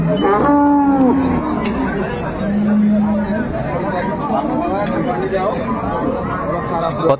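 A dairy cow moos loudly twice, a long low call near the start and a shorter one a couple of seconds later, at a busy cattle market in Ambari, Dinajpur, with crowd talk and babble running underneath throughout.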